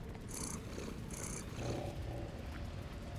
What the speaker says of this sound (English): Is it purring?